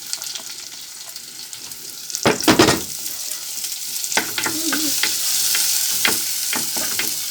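Chopped red onions hit hot oil in a pan for a Sri Lankan egg curry, bursting into loud sizzling with stirring clatter, then settling into a steady close frying hiss, with no talk.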